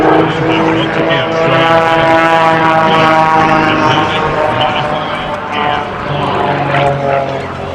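A highly modified propeller airplane with nearly 400 horsepower drones loudly and steadily overhead at an airshow, its engine note shifting slightly as it passes, with a commentator talking over it.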